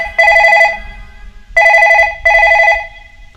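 A telephone rings in three bursts of a trilling electronic tone, each lasting under a second and separated by short gaps. The ringing is loud and close, with no talk over it.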